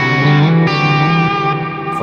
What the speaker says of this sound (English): So this is just basically a big verb